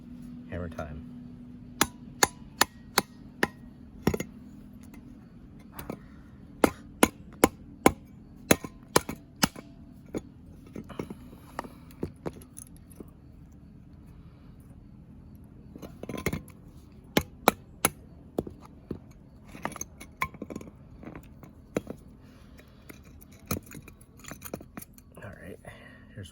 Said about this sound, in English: So I'm gonna hit it with a hammer, just a mallet.